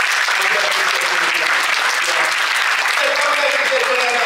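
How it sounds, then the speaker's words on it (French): Loud, dense applause from a large audience at a business coaching meeting, sustained and even from start to finish with no break. "que je vous demande d'applaudir très fort"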